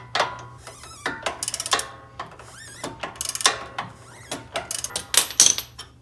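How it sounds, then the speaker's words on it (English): Ratcheting clicks of a 19mm wrench working a sway bar nut on a Jeep JK, close and fairly loud, coming in quick uneven bursts with metallic clinks in between. "I'm gonna get my wrench on the back of this, the 19mm"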